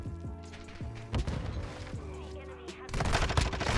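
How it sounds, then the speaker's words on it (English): Gunfire from Call of Duty: Modern Warfare 2 in ranked multiplayer, with loud bursts of automatic fire and sharp shots in rapid clusters, close and dense, then a heavier volley near the end. "How these guys just all of a sudden start shooting back?"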